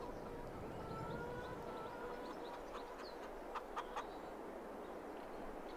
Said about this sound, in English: Oh, our chicks are chickens!